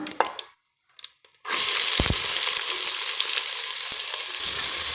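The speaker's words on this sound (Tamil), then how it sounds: "வெங்காயத்தை நல்லா வதக்கிக்கோங்க" Onions hit hot oil with whole spices. A few clinks and a short pause give way to a loud, steady, close sizzle of sautéing that lasts to the end.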